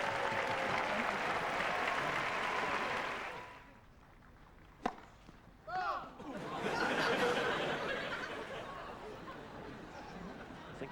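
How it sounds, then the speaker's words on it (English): Studio audience applause during a televised sports bloopers show, a full broad burst of clapping with some chatter that fades out midway, then swells back up with scattered laughter. "We're going to get a round of applause"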